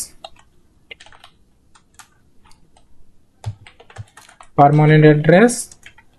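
Someone types a resume in MS Word on a computer keyboard, producing sparse, faint key clicks scattered through the clip, followed near the end by a loud burst of voice.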